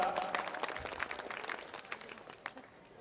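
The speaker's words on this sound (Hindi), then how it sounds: "तालियां बजाओ एक बार जोरदार" A crowd at a mass wedding ceremony in Pushkar claps in a dense burst of overlapping hand claps that gradually thins and fades over about three seconds.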